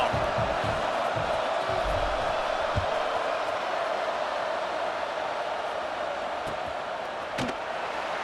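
Crowd at an Aggies college football stadium, a constant distant roar of many voices blending into a broad wash, with a few faint thuds, steady throughout.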